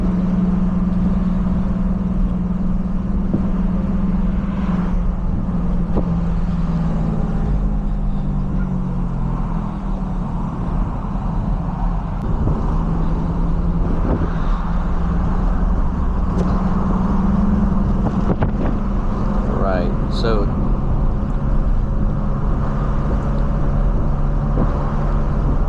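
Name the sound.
2001 Toyota MR2 Spyder driving at highway speed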